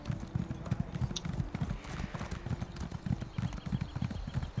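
Hooves of a galloping horse in The Elder Scrolls Online thud in a quick, steady, close clip-clop rhythm that continues without a break.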